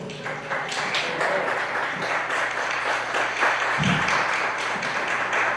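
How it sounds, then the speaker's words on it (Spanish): A gathering at a nationalist movement presentation welcomes its speaker with steady applause, moderately loud and sustained across several seconds, with a brief low thump partway through. "le damos la bienvenida con un fuerte aplauso"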